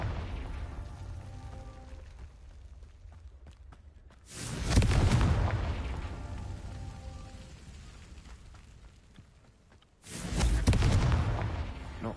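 Confringo blasting spell in Hogwarts Legacy, two heavy booming explosions a few seconds apart, each a loud broadband burst that decays slowly over an ongoing rumbling game soundscape.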